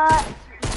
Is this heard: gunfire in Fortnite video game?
yes